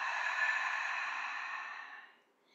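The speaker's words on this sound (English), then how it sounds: "filling up through the nose and opening the mouth to exhale." A deep breath is let out through the open mouth during a yin yoga session, a single soft, airy exhale that holds steady and then fades away.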